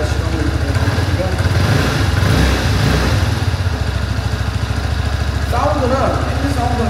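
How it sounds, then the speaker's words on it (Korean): A Suzuki U100 scooter engine idles loudly and steadily nearby with a fast, even putter, and faint voices come through in the background. "엔진 사운드는 되게 부드럽습니다"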